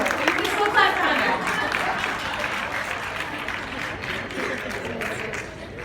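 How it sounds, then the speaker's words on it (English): Audience applause at an HIV conference awards ceremony greets an award presenter, a steady, moderately loud wash of clapping with some voices mixed in. "You can still clap for Andre."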